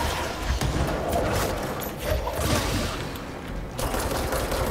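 Gunfire aimed at a monster in the video game Control, a fairly quiet, continuous clatter of rapid shots with brief lulls, heard under game ambience.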